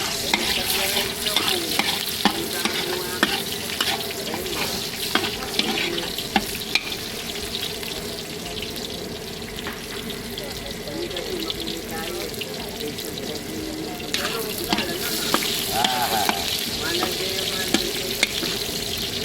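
Garlic and onion sauté in a pan at a farm kitchen, with a loud, steady sizzle and frequent stirring scrapes running throughout.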